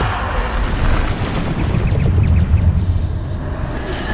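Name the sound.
Bombarda explosion spell blast in a Harry Potter video game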